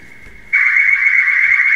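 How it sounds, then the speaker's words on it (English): A home security alarm sounds: a faint tone, then a loud, steady, piercing electronic beep that starts abruptly and holds without pause, close by and alone. "I set off the alarm."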